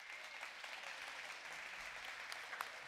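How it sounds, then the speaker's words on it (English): Audience at a mayor's State of the City address giving a round of applause, a faint, steady, distant wash of many hands clapping that holds evenly throughout. "I do want you to give a great round of applause for Underwoods for providing our meal today"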